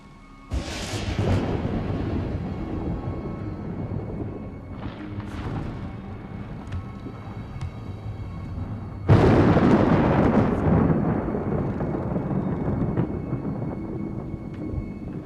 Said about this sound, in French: Tu as peur de l'orage?